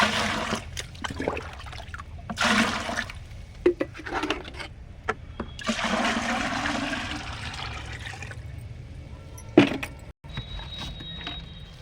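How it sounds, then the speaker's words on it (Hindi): Water poured into a 20-litre container to fill it while mixing a compost decomposer, a broad splashing pour that runs in uneven bursts and swells near the mic with brief gaps. "इसमें 20 लीटर हम पानी भरेंगे।"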